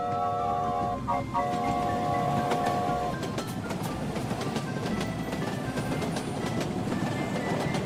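A cartoon train from the Russian cartoon Truck Lyova rolls along its rails with steady clickety-clack rhythm and a brief tonal whistle-like chord at the start, moderately loud and continuous throughout.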